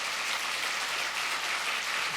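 A church congregation claps in welcome for two members standing up, a steady wash of many hands applauding together without pause.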